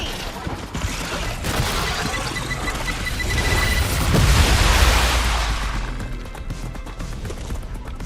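A grenade detonates in the video game Star Rupture: a loud, deep blast that swells to a heavy rumble over a dense backdrop of in-game combat noise, then tapers away.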